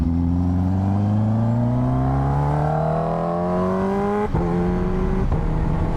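A Kawasaki H2R motorcycle pulls hard in sixth gear, its loud engine whine climbing steadily in pitch over several seconds, with a brief jolt and dip near the end before rising again.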